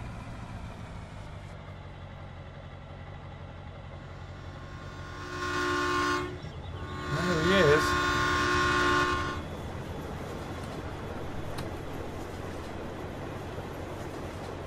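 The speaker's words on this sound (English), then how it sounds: "Another monstrously big train." A long freight train rolls along a rail line in Farming Simulator 17, a steady rumble of carriages with two loud horn blasts sounding in the middle; someone speaks briefly.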